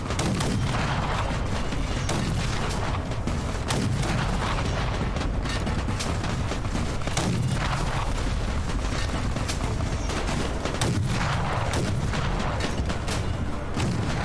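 Sustained gunfire in Fallout: New Vegas, a dense barrage of overlapping shots and booming impacts continuing without pause, loud and close with rattling mechanical clatter underneath.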